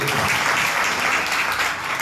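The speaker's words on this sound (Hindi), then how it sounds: "ताली बजाओ बच्चे" Children clap together during a spiritual teaching session, a loud, dense burst of hand claps close by that holds steady for the whole stretch.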